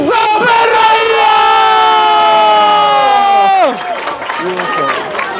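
A crowd cheers and yells for the winner of a timed eating challenge, loud drawn-out shouts in unison that cut off abruptly, followed by quieter scattered calls and chatter nearby.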